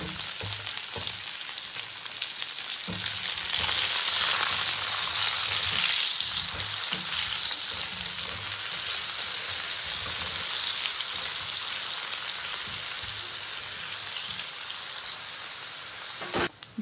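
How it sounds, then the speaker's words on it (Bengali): Eggplant pieces fry in oil left over from frying fish, giving a steady close sizzle and crackle with occasional soft stirring knocks, and no voices throughout. "মাছের তেলের মধ্যে আমি বেগুন কটাকে একটু ভেজে নেব।"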